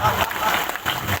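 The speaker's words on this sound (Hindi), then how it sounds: "और पूरे सदन की ताली इस बात पर चाहूँगा" Brief burst of audience clapping at a Hindi comedy poetry gathering for Holi, a dense broadband patter that swells and dips over about a second, with a voice partly mixed in.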